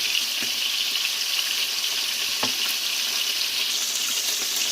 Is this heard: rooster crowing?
no